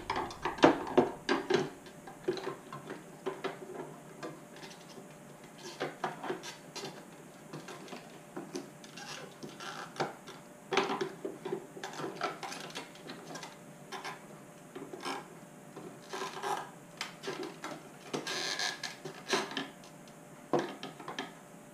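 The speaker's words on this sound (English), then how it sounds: "So I'm going to stick my screwdriver there and see if I can" A screwdriver pries apart an Audi S4 B7 headlight housing, giving faint, intermittent plastic clicks, creaks and scrapes in irregular bunches close by.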